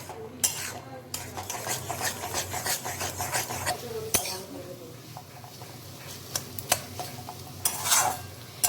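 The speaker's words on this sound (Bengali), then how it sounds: "আমি এখন এই একই তেলের মধ্যে 3টে ডিমকে দিয়ে দেব ফাটিয়ে। এখন আমি ডিমগুলোকে ঝুরি করে নেব।" Three eggs scrambled in oil in a wok, a spatula stirring and scraping against the pan in steady strokes with a soft sizzle underneath, close and moderately loud.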